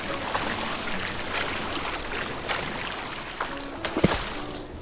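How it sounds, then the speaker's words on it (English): Water splashes and ripples softly as a character swims in a calm video game scene, a steady low wash broken by a few small sploshes near the end. "And the sounds of the water, the sploosh and the ripples"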